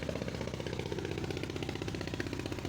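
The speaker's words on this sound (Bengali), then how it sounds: "এই যে এদিকে নৌকা যাচ্ছে, এটা হচ্ছে তিতাস নদী" Boat engine on the Titas river near Brahmanbaria town, a steady mid-pitched chugging with a fast, even pulse that holds at moderate distance throughout, with no voices.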